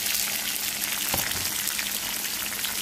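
Tomatoes dropped into onions frying in hot oil on a low gas flame give a steady, close crackling sizzle with one brief louder burst, and no one speaks.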